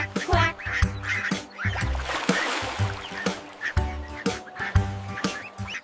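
Rapid quacking sung in a children's nursery rhyme repeats in quick bursts with a rhythmic, song-like pattern, loud and close, over a soft background.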